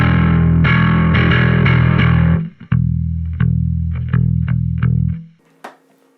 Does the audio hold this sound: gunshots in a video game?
no